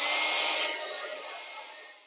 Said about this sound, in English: you can really speed things up with a hairdryer.